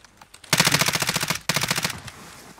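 Two rapid bursts of automatic gunfire from Warzone, loud and close, each about a second long, separated by a brief pause, with no talking.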